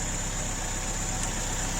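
A Ford Escort MK2 barn find, freshly revived, idles steadily outdoors with its block filled with water, giving an even, continuous engine drone with a low regular pulse and a steady high whine, nearby and unbroken.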